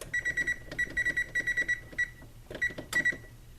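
An oven timer beeps in quick repeated bursts of short electronic tones while being set, the bursts grouped in several runs and fairly close and loud.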